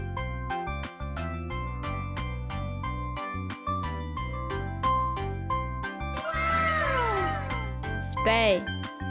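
A cat meows twice in drawn-out, falling cries near the end, set over a steady, bouncy children's learning tune with bright chimes.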